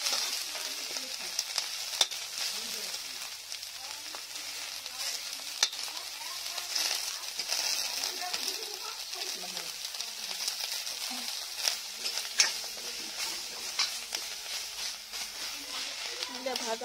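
Chili, garlic and gourd leaves fry gently in a pan with a soft, steady sizzle and occasional stirring scrapes, close and fairly quiet, while a voice talks over it.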